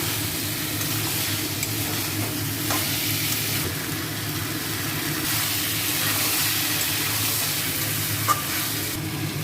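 Potato and pointed gourd fry in a cooked-down spice paste, giving a continuous, even sizzle with occasional faint stirring clicks, close and alone without talk.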